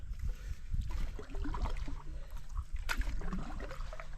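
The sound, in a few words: canoe paddling through a bog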